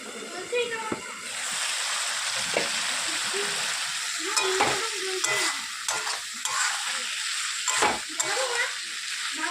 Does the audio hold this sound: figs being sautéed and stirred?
yes